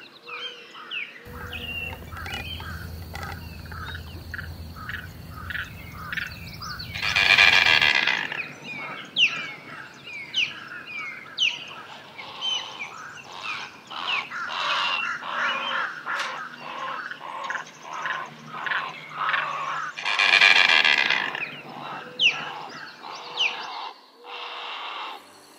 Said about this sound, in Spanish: Es un ave fácil de detectar por su potente y extraño canto, que se asemeja a un chirrido metálico y repetitivo